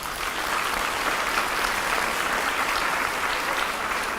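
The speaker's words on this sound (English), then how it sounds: "Let's give him a round of applause" An audience at a school district's State of the District gathering applauds State Representative Todd Hunter, a steady, moderately loud round of clapping that continues evenly with no talk over it.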